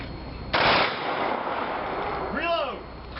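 A single loud rifle volley fired by an honor guard at a Memorial Day ceremony in Newfoundland, a sharp crack with a short echoing tail, followed by a quieter stretch with a brief whistling or squeaking sound near the end.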